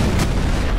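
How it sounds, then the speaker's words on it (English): An explosion in the sandbox game Garry's Mod, a loud, broad boom that fills the short moment and does not fall away, with a brief burst near the start and no talk over it. "Let's all get a front row seat for Link's explosion."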